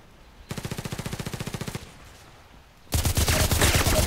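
Hip-fired gunfire in the online shooter Contract Wars: a steady automatic burst of about twenty evenly spaced shots, a short pause, then a louder, denser burst of fire to the end.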